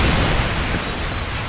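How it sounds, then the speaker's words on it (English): A grenade goes off in the shooter game Call of Duty 4, a loud, close blast whose rumbling roar fills the moment and then tails off slightly, with no voices. "The nade takes forever to land."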